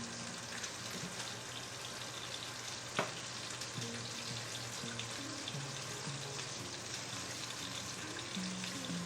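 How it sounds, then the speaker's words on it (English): Steady soft sizzle of asparagus frying in a hot oiled pan, a continuous low crackle with one brief sharp knock, fairly quiet and with no talking. "Our pan should be nice and hot, and we're gonna toss our asparagus in."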